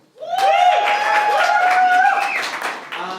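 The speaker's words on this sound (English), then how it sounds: "By a round of applause, who's been to ImprovBroadway before?" Applause and cheering from an audience at an improv theater musical comedy show, a loud sustained wash of clapping with high whooping voices riding over it before it thins out near the end.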